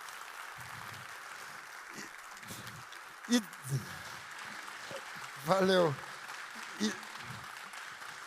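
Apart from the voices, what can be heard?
audience applause after a talk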